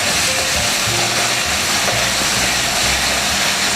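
Tempeh and peanuts fry in a pan with a steady, loud sizzling hiss while being stirred, and a low rumble runs beneath it with no voices.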